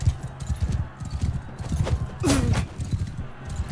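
A horse gallops in Mount & Blade II: Bannerlord, rapid rhythmic hoofbeats thudding continuously and close, with a brief whinny-like squeal partway through and a voice talking intermittently over it.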